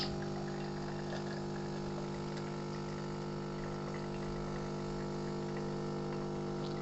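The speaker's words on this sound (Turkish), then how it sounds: "Bu otomatik makineden alınan bir espresso. Burada gördüğünüz üzere kahve böyle güzel akıyor." Automatic espresso machine pumping a shot of espresso, a steady close-up pump hum with a faint liquid trickle that runs evenly throughout with no pauses.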